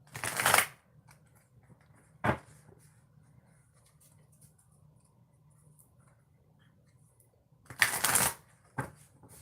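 A deck of tarot cards is riffled in two short, crisp shuffles several seconds apart, close and fairly quiet against a near-silent background.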